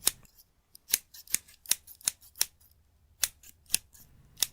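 Scissors cutting with crisp, close snips: about a dozen sharp cuts in an uneven, jerky rhythm, with brief pauses between groups, heard alone in quiet surroundings.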